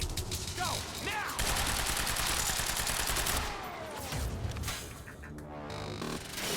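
Gunfire in the Quantum Break video game crackles in dense, rapid bursts, with sharp repeated shots and swooping effects over loud action sounds, easing off briefly before resuming.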